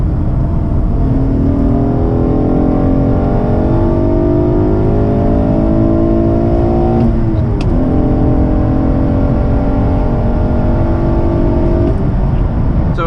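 A Ktuner-tuned Acura TL SH-AWD accelerating hard, engine pitch climbing through a gear, a quick drop at a shift around the middle, then climbing again; loud and close, heard from inside the car with no talk.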